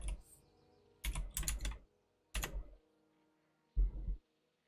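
Computer keyboard typing during a World of Warcraft Classic Hardcore game session: several separate bursts of rapid, close key clatter, broken by short pauses, with no voices.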